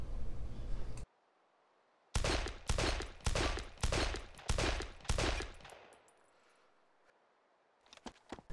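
A revolver in the DayZ video game fires rapidly, one shot then a burst of about six sharp, loud reports in quick succession, followed by quiet and a few faint clicks and handling noises at the end.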